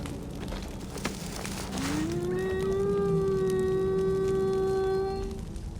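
A single long, steady howl from a video game wolf in Far Cry Primal rises and holds against a noisy wind-like background, clear and fairly close.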